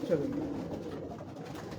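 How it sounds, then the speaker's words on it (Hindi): High-flyer pigeons coo at dusk on a Lahore rooftop, a low soft burbling call that starts clearly and fades into a murmur over a steady background, with no other voices. "ये जो है हमारे बर्ड्स जो हाई फ्लायर कबूतर हैं"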